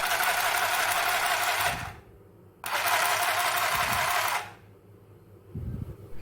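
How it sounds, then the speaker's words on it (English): A battery-powered handheld stitching machine runs in two loud, steady buzzing bursts of about two seconds each, close up, separated by short pauses with faint handling noise. "by just pressing the switch of this machine, we can easily do the stitching."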